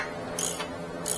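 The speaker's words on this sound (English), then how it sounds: "The ratcheting is gonna go through the head of the bolt" A ratchet wrench clicks on a brake bolt of a 2013-2025 Infiniti QX60, with two sharp, close metallic clicks over a quiet background.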